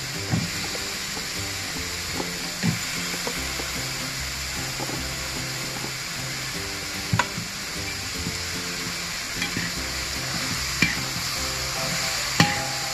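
Chicken pieces going into a pan for a roasted country-style chicken curry, with a steady sizzle of frying under occasional sharp scrapes and knocks of stirring, close and alone with no talking.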